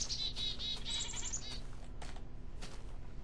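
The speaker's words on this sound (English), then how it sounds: "What the heck is that? Is that a little goat?" A small goat bleats several times in the Minecraft Technic modpack game, with wavering cries clustered in the first second and a half, followed by fainter game ambience.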